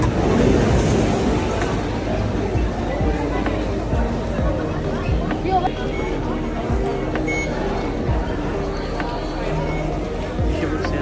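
Loud, constant rumble and rattle inside a moving metro train carriage in Singapore, with people chattering in the background.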